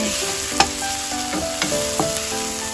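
Pork spare ribs and pork belly are stir-fried in a pan for adobo sa dilaw. A constant close sizzle runs throughout, broken by a few scraping stirs.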